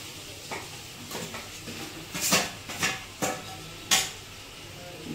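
Chicken goes into a pan of onions, with a low sizzle underneath and several sharp scraping and clanking strokes of a spoon stirring against the pan, spaced irregularly.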